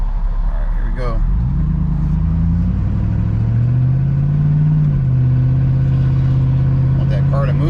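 A white 2005 Chevrolet Silverado pickup driving on a road, its engine droning steadily and shifting pitch as it accelerates, heard from inside the cab with someone talking over it.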